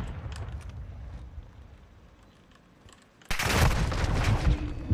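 A sudden, loud burst of Call of Duty: Modern Warfare II gunfire cuts in partway through and keeps going as dense rapid fire over quieter background noise.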